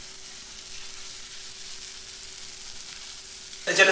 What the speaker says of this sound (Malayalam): ഉള്ളിയും പച്ചമുളകും കൂടിയാണ് ആദ്യം നമ്മൾ വഴറ്റുന്നത്